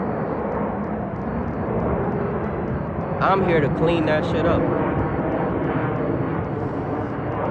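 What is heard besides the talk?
airplanes flying overhead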